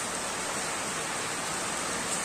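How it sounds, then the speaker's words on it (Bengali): A constant, even wash of heavy rain roars without a break, drumming steadily on a tin roof. No other sounds stand out. "বৃষ্টির আওয়াজটাও শুনতে ভালো লাগে"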